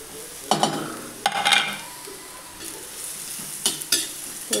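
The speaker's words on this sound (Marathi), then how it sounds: "हे पण चांगलं तेलामध्ये भाजून घ्यायचं वाटण" Green chili and peanut paste fries in oil for khichdi, with quiet sizzling broken by several sharp scraping stirs of a spoon against the pan.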